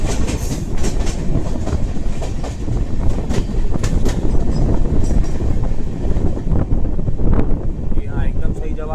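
The Vikramshila Express, running from Bhagalpur to Anand Vihar, moves toward Ghaziabad with a loud, close rumble and rhythmic clickety-clack of wheels over rail joints, buffeted by wind noise.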